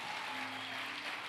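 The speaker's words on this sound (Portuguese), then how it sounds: "Vai aplaudir, aplaude com força." Church congregation clapping during worship, a steady dense wash of applause filling the room with no break, brief and fairly soft.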